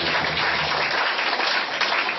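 Congregation applause at a church sermon, dense steady clapping filling the whole moment, loud and close, with no talking over it.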